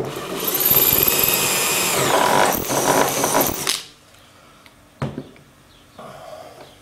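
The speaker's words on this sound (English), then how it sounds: "Drill a hole." A power drill bores a hole through tubing during the build of a Skybolt PPG V1 paramotor frame, whirring loudly and steadily for almost four seconds before stopping, followed by a few brief clicks and knocks of handling.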